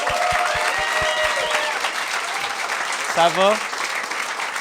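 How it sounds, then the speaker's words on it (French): A studio audience applauds two podcast guests as they are welcomed: steady, broad clapping running underneath a voice as he greets them briefly. "Une bonne main d'applaudissements à mes invités."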